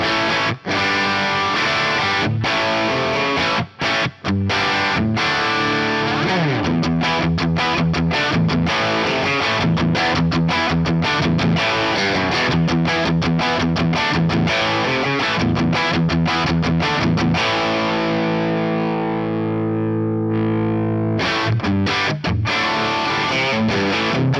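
A distorted electric guitar through a Plexi-style amp plugin with a cab impulse response plays loud crunchy chords and riffs with a touch of plate reverb, ringing out alone before a final sustained chord.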